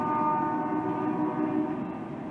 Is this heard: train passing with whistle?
yes